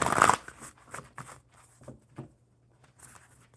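Crow oracle cards being shuffled by hand, a brisk burst of riffling up front followed by softer intermittent taps and slides of the deck, close and fairly quiet with no talking.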